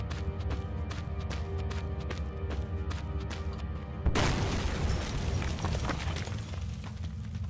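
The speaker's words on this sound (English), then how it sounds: "that explosion was really small considering how much TNT that was" A TNT explosion goes off in a mine in the game Penumbra Overture: rapid rhythmic ticking gives way to a sudden, sustained, roaring blast that rumbles on, with no speech.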